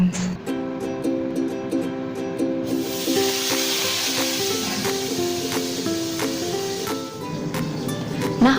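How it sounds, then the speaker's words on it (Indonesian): Fish fries in hot oil with a broad, continuous sizzle that swells after a few seconds and keeps going, while a quiet voice sings along over the frying. "Dan ini mau goreng ikan dulu teman-teman."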